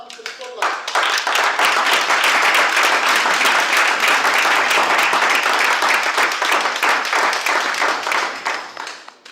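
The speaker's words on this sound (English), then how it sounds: "let's clap her as she comes to the spotlight" A room full of people claps steadily and loudly for about nine seconds as a speaker walks up at a humorous and table topics speech contest, then the applause tapers off.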